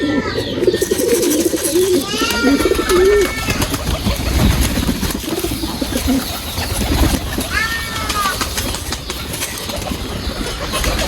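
Pigeons coo repeatedly from nearby cotes on a winter morning, with soft rolling calls recurring through the clip over a steady outdoor background and occasional wing flutters.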